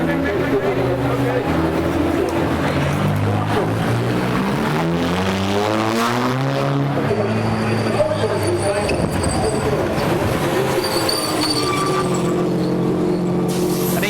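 A VW Scirocco race car pulling out of the pits at the Nurburgring 24 hour race, its engine revving through rising and falling gear sweeps, loud and close with nearby crowd noise and talk.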